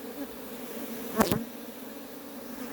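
Native Korean honeybees hum steadily around their hive, a soft, close, continuous drone, with one bee zipping past the microphone loudly for a moment midway.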